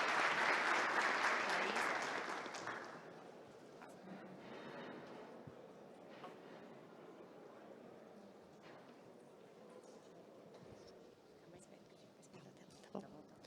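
Audience applause welcoming speakers at a technical talk on mining blast optimization, loud clapping in the opening seconds that quickly fades, leaving quiet room murmur and faint rustling.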